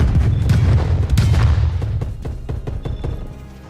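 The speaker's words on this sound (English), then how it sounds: "Stun grenade out." A stun grenade goes off in a video game with a loud, booming blast followed by a crackling, decaying rumble that fades over a few seconds.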